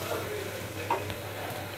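Onion and green chili sautéing in oil, a constant low sizzle with a couple of faint scraping stirs.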